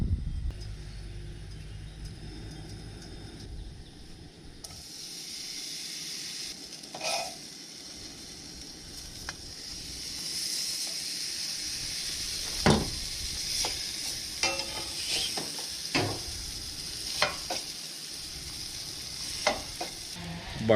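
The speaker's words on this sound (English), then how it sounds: "guess I'm gonna make me a fried bologna sandwich" Bologna frying in a pan over an outdoor fire for a sandwich, a steady close sizzle with occasional scraping and clinking of a utensil against the pan, no voices.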